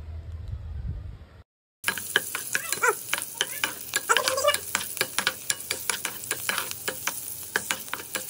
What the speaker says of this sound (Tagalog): tapos na natin ginisa ang sibuyas